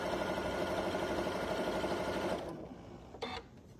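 A Janome Continental M6 sewing machine stitches in a fast, steady mechanical whir up close, then stops, leaving a soft click and a brief whirring after the run.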